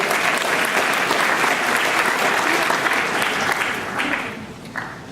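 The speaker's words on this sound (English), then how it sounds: "We give her a round of applause." Loud, dense applause fills a senior convocation hall, a steady wash of many hands clapping together that holds strong for several seconds before tapering off, with faint voices underneath.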